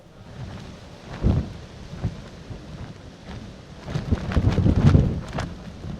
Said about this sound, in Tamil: கிழக்கு கடற்கரை சாலை முழுமையாக இருக்கக்கூடிய கடற்கரைகளில் சூறைக்காற்று வீச தொடங்கியிருக்கிறது